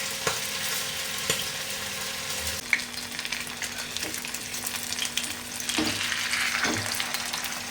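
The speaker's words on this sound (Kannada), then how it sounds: "ಒಂದು ಸೈಡ್ ಒಳ್ಳೆ ಫ್ರೈ ಆಗ್ಲಿಕ್ಕೆ ಇಡ್ಬೇಕು" Kingfish (surmai) slices fry in a pan, a steady close sizzle of hot oil running throughout, with a few soft clinks and shifts of the pan and no talking.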